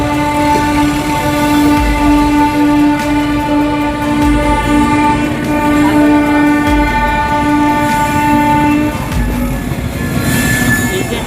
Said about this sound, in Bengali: আমাদের ট্রেন শালিমার স্টেশন দিয়ে ছেড়ে বেড়ালো তার গন্তব্যস্থান পুরীর উদ্দেশ্যে